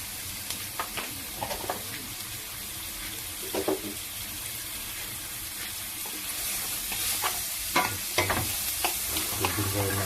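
Chicken browning in a pan for calderita with tomato paste, a steady loud sizzle broken by occasional scraping stir sounds and clinks.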